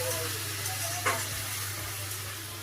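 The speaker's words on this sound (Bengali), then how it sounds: "এই মশলা কষা হচ্ছে, মশলাটা কষে নিয়ে" Spices sizzle and fry in a pan, a steady soft hiss with a brief stirring scrape, fairly quiet and alone.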